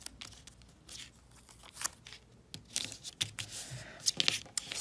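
Tape being pulled and pressed down along the edges of a woven paper heart in an art class, giving close, faint tearing and crinkling bursts at irregular intervals.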